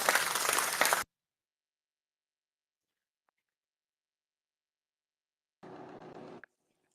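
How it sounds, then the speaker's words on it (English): Two short bursts of clapping on an online Biafra support stream, one at the start and another a few seconds later, separated by near silence. "Somebody will go clap for Chicken Head."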